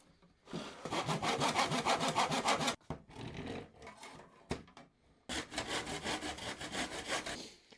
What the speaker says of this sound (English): I use this to start off and then use a better saw to cut through